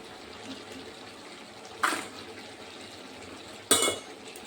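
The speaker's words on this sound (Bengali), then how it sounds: "হয়ে গেছে এগুলো আমি তুলে ফেলছি এখন তেল থেকে" Homemade potato chips being lifted out of hot frying oil: two short metallic scraping rattles of a scoop against the pan, spaced a couple of seconds apart over a faint, steady sizzle.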